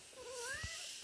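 A house cat lets out one short, rising and falling meow at close range, fairly quiet, over a faint background hiss.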